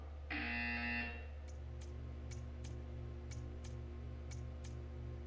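A harsh electronic buzzer in the puzzle game Portal 2 sounds once for about a second, followed by a quiet steady hum with sharp clicking ticks at irregular intervals.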